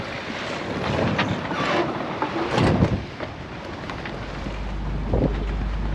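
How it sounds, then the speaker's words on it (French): A sailboat's engine drones steadily under autopilot during an ocean crossing at about 6 knots, beneath gusty wind noise and the wash of water, with a deeper rumble swelling toward the end. "là on est sous pilote, tu entends le moteur"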